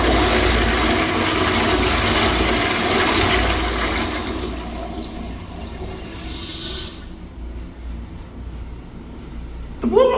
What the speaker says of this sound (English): Alright, let's see how this thing flushes.